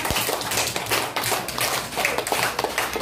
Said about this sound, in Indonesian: Nah, berikan tepuk tangan untuk temannya.